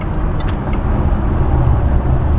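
All-wheel drive car accelerating on a rainy road, a loud, steady engine and tyre rumble with road noise heard from inside the car.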